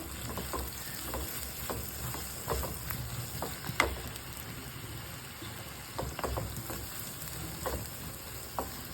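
Spiced masala for a Kerala-style prawn dish sautéing in a pan, a steady broadband sizzle with scattered crackles and occasional spatula scrapes and taps, close and alone with no voices.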